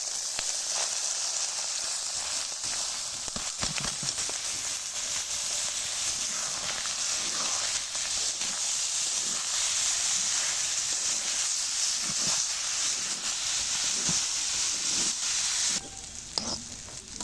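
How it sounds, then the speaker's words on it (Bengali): Rice sizzling and frying with spices in a pan for chicken biryani, a steady loud crackling hiss with occasional stirring scrapes throughout, no talking. "মশলাটা খুব ভালো করে ভাজা হয়ে গেছে, এবারে চালগুলো ভেজে নেব"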